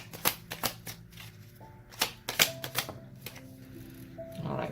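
Tarot cards being shuffled and drawn for a pick-a-card reading, with a series of sharp, close riffling snaps and slaps in uneven bursts and quiet rustling in between, no talking.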